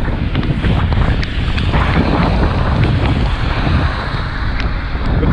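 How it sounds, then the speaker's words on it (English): Heavy wind buffeting a microphone while riding, a constant loud roaring rumble with no breaks, alone without talk. "The fucking wind, mate, is blowing me backwards."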